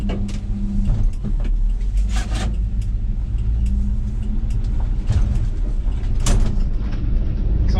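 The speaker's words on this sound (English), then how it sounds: "I figured I'd take the old GMC out for a rip, and not much to do, just put it in gear and go" An old 1985 GMC C2500 pickup with high mileage drives along, its engine a steady low rumble heard from inside the cab, with scattered rattles and clunks from the truck.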